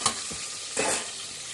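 Tempering hits lentil curry with a sharp, loud sizzle: two bursts of crackling hiss close by, the second longer and fading into a steady fry.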